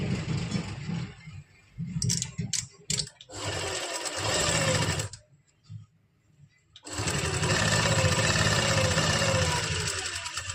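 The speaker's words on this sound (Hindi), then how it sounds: "इसकी साइड में पक्की टांके की सिलाई लगा लेंगे पूरे में।" A sewing machine stitches the side seam of a pleated kurti in quick bursts, stopping and restarting, with a rapid, close mechanical whir in each run.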